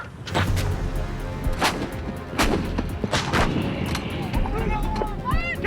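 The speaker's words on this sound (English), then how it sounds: "They're shooting M777 howitzers, 155 millimeter caliber." M777 155 mm howitzers firing direct fire at a target they can see: several heavy booming blasts, spaced a second or so apart, with rumbling echoes over a steady roar of background noise and faint voices.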